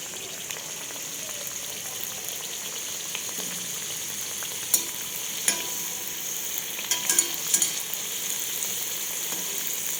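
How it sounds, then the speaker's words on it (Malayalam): Continuous crackling sizzle of snacks deep-frying in hot coconut oil, with occasional louder pops and spatters; no voices. "നമ്മുടെ വെളിച്ചെണ്ണ ചൂടായി വന്നിട്ടുണ്ട്. ഓരോന്നായിട്ടിട്ടിട്ട് നമുക്ക് വറുത്തെടുക്കാം."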